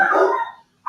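A dog gives a single close, loud bark that trails off, with the onset of another bark at the very end.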